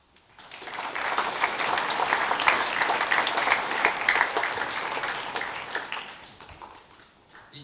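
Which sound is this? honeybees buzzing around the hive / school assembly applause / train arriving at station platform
school assembly applause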